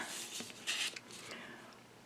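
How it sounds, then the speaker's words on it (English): A craft knife slices down through paper in a handful of short, crisp scraping strokes, close and fairly quiet, with no talking over it. "I'm just going to use my craft knife, and I'm going to cut down"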